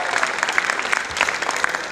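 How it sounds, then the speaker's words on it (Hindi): A preschool annual event audience claps briskly, a short burst of dense, fairly close applause with individual sharp claps standing out. "जोरदार ताली अपने लिए।"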